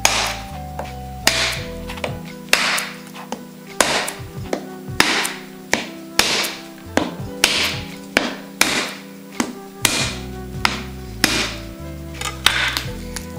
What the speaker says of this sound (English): Just hit it with the back of the knife.